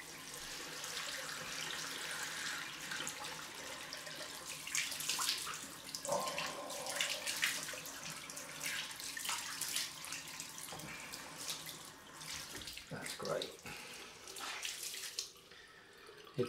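A tap runs steadily for a cold rinse after a head shave, a close, even hiss of water with small splashes and shifts in the stream as it is used, fairly quiet throughout.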